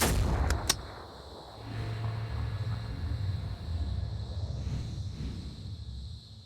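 Gunfire in the tactical video game Phoenix Point, with two sharp shots at the start standing out over dense, rumbling game ambience and a steady low drone.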